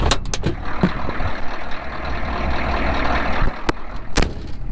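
Ford F-250 with a 6.9 IDI diesel engine idling just after starting, a steady rough rumble with a slight rattle and a couple of sharp knocks or clicks over it.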